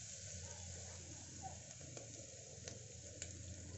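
Paste sizzles steadily in a hot pan while being sautéed for a black-eyed pea kurma, a continuous close frying hiss with faint stirring scrapes throughout.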